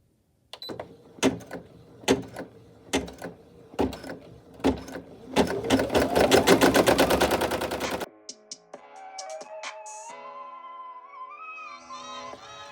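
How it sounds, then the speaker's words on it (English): An embroidery machine stitches a satin border outline on a double-layer appliqué patch, giving fast rhythmic mechanical clatter in bursts that speed into a dense run, then a quieter whirring hum near the end. "now it's going to stitch the satin border for the outline."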